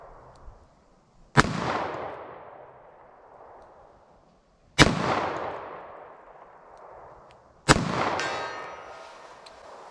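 Three sharp, widely spaced gunshots from a Ruger LCRX .22 Magnum revolver with a 3-inch barrel, each a loud crack followed by a long fading outdoor echo; a faint click before the first.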